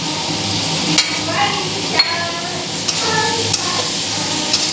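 Ground black pepper, cumin, Kashmiri chilli powder and chilli flakes frying in a pan: a loud, continuous close sizzle punctuated by regular metallic spatula taps against the pan.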